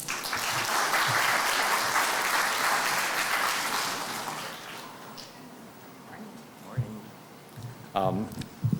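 Loud crowd applause at a sustainability conference session fills the first several seconds, then fades into a quieter room with scattered voices and a few bumps.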